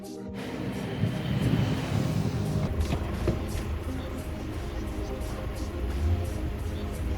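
A 1997 BMW Z3 on a road test after a transmission filter replacement, steady engine and road rumble heard from inside the car, continuous and moderately loud with occasional faint knocks.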